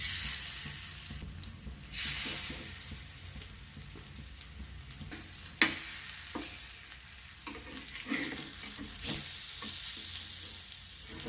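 Fish pieces fry in hot oil in a pan with a continuous close sizzle, swelling as they are stirred and turned, with occasional utensil scrapes and clinks. No voices.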